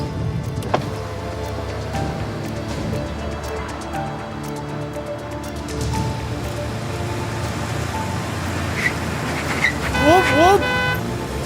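Road traffic in heavy motion rumbles continuously while rain patters, and a car horn blares in several short toots near the end; a voice speaks briefly over the din.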